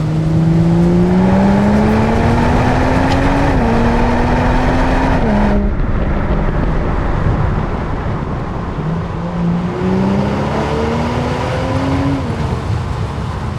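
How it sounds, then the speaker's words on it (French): A BMW Z4 M40i's new Akrapovic exhaust revs loudly, pitch climbing in stepped rises, dropping off briefly, then climbing again, a deep, rounded engine note throughout. "l'échappement à Krapovic offre une once de douceur, une once d'un peu plus de rondeur dans le son de l'échappement"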